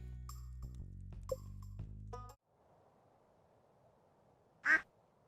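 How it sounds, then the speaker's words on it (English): A single loud duck quack from the video game Stardew Valley rings out alone near the end, following a stretch of cheerful game music and then quiet ambience. "let's get a duck"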